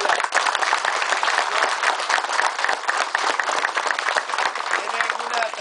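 Sustained crowd applause fills an outdoor May Day community gathering in Tepezontes, El Salvador, a dense continuous clatter of many hands lasting several seconds, with a voice faintly audible underneath.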